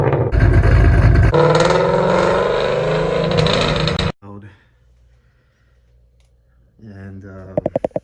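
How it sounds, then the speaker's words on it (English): A 2005 Mustang GT with Flowmaster Outlaw mufflers gives a loud, close exhaust roar for about four seconds, then cuts off abruptly, and a voice follows in the quiet. "the Flowmaster Outlaws that I'm running right now are way too loud."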